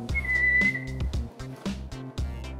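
A person whistling a single sustained high note for roughly a second, close by, over a busy background with bursts of other noise and movement.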